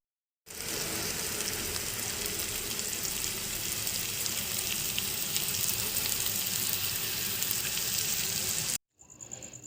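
Onions and tomatoes for a potato rice masala sauté in a pan, a dense, even sizzle and hiss that holds steady for about eight seconds, then cuts off abruptly, no speech.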